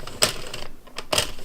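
A hand-cranked knitting machine turns while knitting a gnome from wool, giving a few clacking, rattling bursts of carriage and needle noise separated by short pauses.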